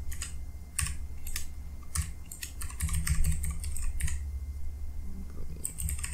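A password is typed on a PC computer keyboard to log in to a game-streaming app, a nearby run of crisp, irregular key clicks with brief pauses over a low hum.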